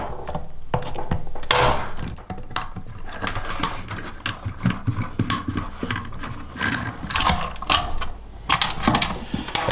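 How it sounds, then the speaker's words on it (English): Bolts on a 2019 Yamaha Tenere 700 being loosened with a 5mm Allen key, close irregular metallic ratcheting clicks and clunks in quick bursts. "Next, we remove these two bolts using the 5mm Allen key."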